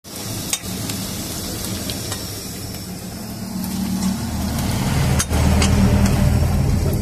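Onion, garlic and green chilli sizzle steadily in hot oil for okra bhujia, a continuous frying hiss with occasional stirring clicks, growing slightly louder toward the end.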